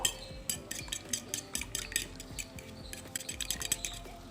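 Egg is beaten with salt and chili powder: a fork or spoon rapidly clinks and taps against a bowl in quick, uneven bursts, close and moderately loud, with no voices.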